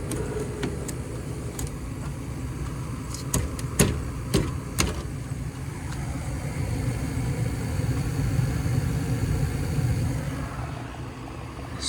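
A Trane gas furnace burner running with low gas pressure, giving a steady close roar that grows slightly over time, with a few sharp clicks and ticks early on.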